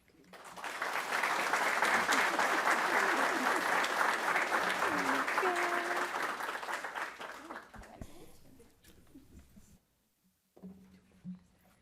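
Audience applause at a school board meeting, a sustained wash of many hands clapping for about seven seconds before tapering off into quiet, with a few voices heard faintly near the end.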